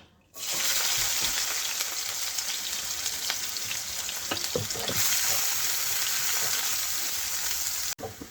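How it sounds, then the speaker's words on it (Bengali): One medium onion fries in two tablespoons of white oil in a kadai until browned for beresta, giving a steady, loud, close sizzle that holds for several seconds before cutting off abruptly. "একটা মিডিয়াম সাইজের পেঁয়াজ ভেজে বেরেস্তা বানিয়ে নেব।"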